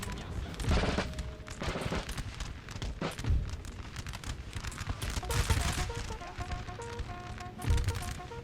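Musket volleys crackle across a Napoleonic battlefield in Napoleon Total War, with repeated dense bursts of massed gunfire rolling on through the clip over faint background music.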